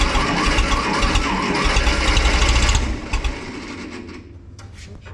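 An old Ferguson TO-30 tractor engine cranks and catches, a loud mechanical clatter running steadily for nearly three seconds before dropping away to a quieter uneven rumble.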